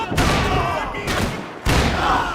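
Max Payne 3 gunfire rattles out in dense, loud bursts, close and sustained with brief gaps between volleys.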